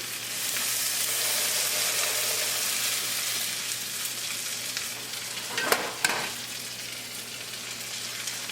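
A homemade burger patty fries in a pan with a loud, continuous hiss. Two brief scraping stirs stand out partway through, with no one talking.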